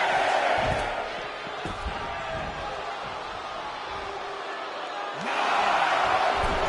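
A video game wrestling arena crowd roars in a steady, loud wash of cheering, swelling again near the end, with thuds from the ring scattered beneath.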